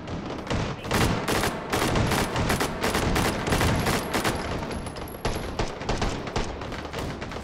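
Intense, near-continuous automatic gunfire from many weapons at once in the VR shooter Hot Dogs, Horseshoes & Hand Grenades, played on an HTC Vive, loud and dense throughout with overlapping shots and no clear gaps.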